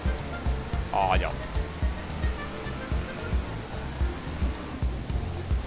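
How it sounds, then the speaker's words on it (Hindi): Steady rain falls across a ranch in Ranch Simulator, a constant wash of patter beneath faint, irregular thumps, with a brief voice-like sound partway through. "बारिश हो गई गाइस, बारिश हो गई, बारिश हो गई यहाँ पे।"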